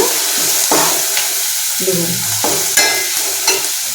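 Ingredients for a netthallu (small anchovy) curry fry in a pan, with a steady sizzle broken by scraping stirs and clinks of the spoon against the pan, close up and without talk.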